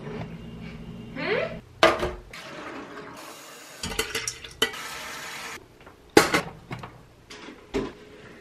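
Soaked buckwheat goes into a pot, with water pouring, a spoon stirring and scraping, and pan clatter coming in irregular bursts between quieter moments.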